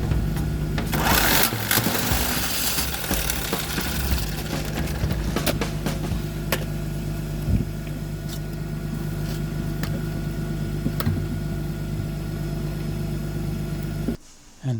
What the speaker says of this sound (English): But I prefer impact wrench.